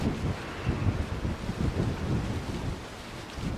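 Gusty wind buffeting the microphone with a low rumbling roar, continuous and fairly loud, no voices present.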